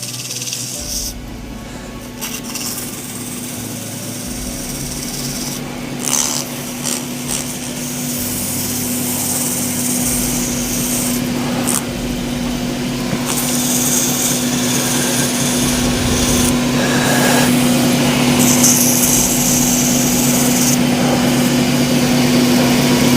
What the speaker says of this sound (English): I'll start up the lathe for that rounding part